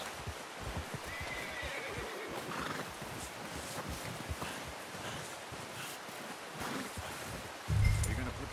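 A horse in the video game Red Dead Redemption 2 whinnies and snorts amid soft hoof steps and rustling, with low-level talk in the background and a louder thump near the end.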